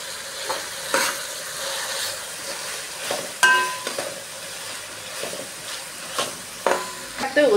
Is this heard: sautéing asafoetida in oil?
yes